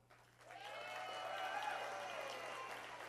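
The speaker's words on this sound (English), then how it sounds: "who brought her own cheering section" An awards audience at a nursing excellence ceremony breaks into applause and cheering for a winner, clapping swelling quickly and holding as a dense, distant wash of claps with whoops on top.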